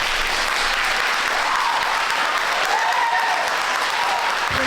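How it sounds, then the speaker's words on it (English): Sustained audience applause fills a hall at the 2025 Norwich mayoral debate, steady dense clapping from many hands, loud and continuous from start to finish with no voices over it. "Please hold your applause until the end."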